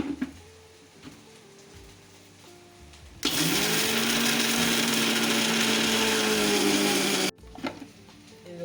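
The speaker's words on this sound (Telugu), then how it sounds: "ఇది మిక్సీ పట్టాలండి" A mixer grinder whirs loudly for about four seconds as it grinds peanuts with cumin. The motor roar starts and stops abruptly, with quiet handling noise before and after.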